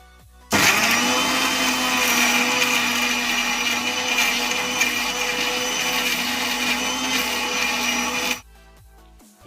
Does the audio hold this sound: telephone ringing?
no